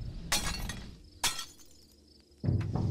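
Glass shatters in the Indonesian horror game Pamali, with three separate sharp breaking crashes spaced across a few seconds, each loud and bright against a quiet background, with no talk.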